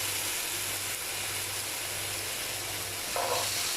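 Chickpeas and tamarind pulp sizzle steadily while roasting in a pan over medium-low flame, a continuous soft frying hiss with a low hum beneath and a brief stirring scrape near the end.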